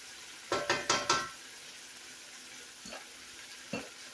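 Cheeseburger crumble meat cooks in a pan, a low steady sizzle broken by a quick run of four sharp scraping stirs early on and two lighter scrapes later, with no voices.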